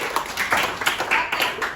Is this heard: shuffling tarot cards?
no